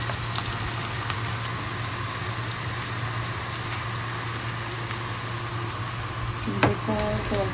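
Bitter gourd (karela) fries in hot tempering oil, giving a steady, dense sizzle that runs loud and unbroken, with a brief clink of a utensil near the end.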